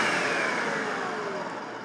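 An electric blender whirs as it blitzes homemade hand sanitizer made from over 90% isopropyl alcohol and lime essential oil. The motor runs loud and steady for about two seconds with a slowly falling pitch, then cuts off, with no talk.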